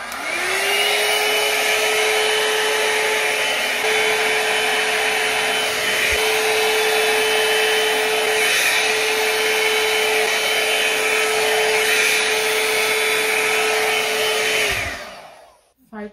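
A hair dryer running on its higher setting blows with a steady, loud whir for about fifteen seconds, then cuts off and winds down near the end.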